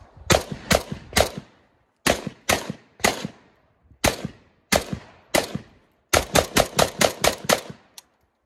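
Palmetto State GF3 rifle firing outdoors in quick strings of sharp, loud shots: bursts of three to five rounds separated by short pauses, ending in a rapid run of about eight shots and one last single crack.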